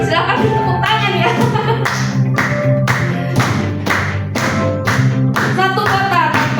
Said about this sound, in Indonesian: silakan dipersilakan tepuk tangan ya